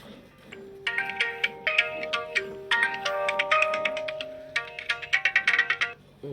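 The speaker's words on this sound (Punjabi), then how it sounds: "ਫੋਨ ਤੇ ਫੋਨ ਚੜਿਆ ਆਉਂਦਾ" Phone ringtone plays a bright melodic electronic tune, repeating notes in a rising and falling pattern, clear and fairly close, heard alone with no talk.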